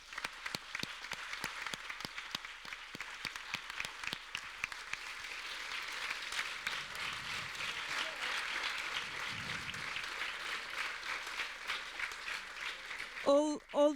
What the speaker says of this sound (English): So if you want to join me to applaud them.